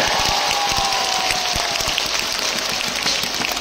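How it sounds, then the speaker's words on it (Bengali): A crowd claps at a chief minister's outdoor programme for the foundation ceremony of a medical college in Karimganj, Assam, a dense, even patter of applause filling the whole stretch with no speech. "একটা বড় হাততালি"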